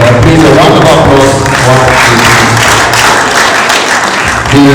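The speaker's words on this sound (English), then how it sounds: "Please, a round of applause" Loud, continuous applause from an award ceremony audience, dense clapping mixed with crowd voices and background music throughout.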